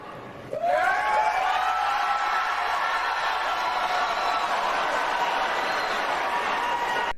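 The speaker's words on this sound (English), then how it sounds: "That was the loudest that crowd had cheered since they got there" A crowd at a Republican presidential debate suddenly erupts into loud, sustained cheering and whooping that swells within a second and holds steady for several seconds before cutting off.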